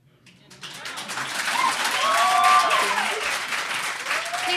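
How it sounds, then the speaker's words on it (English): A student government association debate audience at the University of Tennessee breaks into applause, the clapping swelling from a quiet start into a sustained loud wave before easing slightly. "Please hold your applause."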